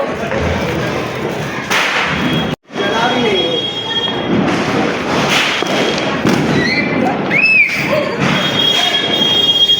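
Loud sharp bangs and crackling pops of Diwali firecrackers burst close by amid a continuous noisy outdoor wash, with a brief near-silent gap partway through.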